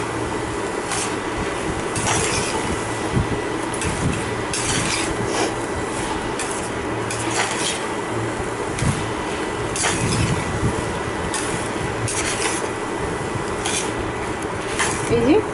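Chole being sautéed in a pan, continuous sizzling with repeated scraping and rubbing of a spatula against the metal, steady and fairly close, with a voice talking faintly now and then.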